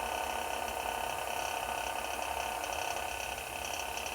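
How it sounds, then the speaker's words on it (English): A wood lathe turning a resin and pine cone pen blank at a speed setting of 900 gives a steady, continuous mechanical whir and hum that holds level and close throughout, with no talking. "Fire the lathe back up."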